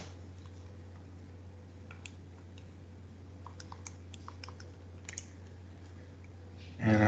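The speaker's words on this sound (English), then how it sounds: "Type that into my calculator." Calculator keypad being pressed, a short series of faint quick clicks and taps over a low steady room hum.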